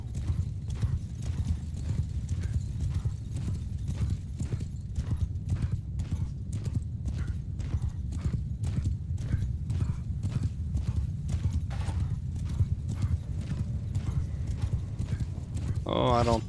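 Cavalry horses gallop in the Bannerlord game, a steady clip-clop of many hooves running through the whole stretch with a whinny near the end, mixed with battle noise and voices talking over it.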